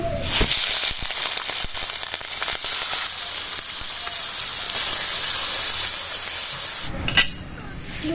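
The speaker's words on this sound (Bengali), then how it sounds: "লবণ হলুদ দিয়ে চিংড়ি মাছগুলো মাখানো এবার ভেজে নেবো" Prawns coated in salt and turmeric frying in hot oil, a loud continuous hissing sizzle with faint scraping, ending in a brief clatter as the sound drops away.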